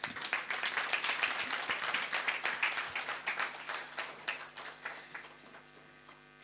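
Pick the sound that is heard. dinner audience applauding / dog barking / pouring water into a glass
dinner audience applauding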